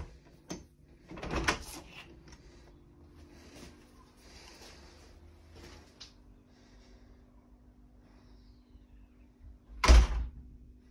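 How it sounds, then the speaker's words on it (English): A Rehau reinforced UPVC back door with black hinges and handle and a Yale 3-star locking system swings shut, a soft knock early on and one firm close near the end, with quiet room noise between. "It closes perfectly."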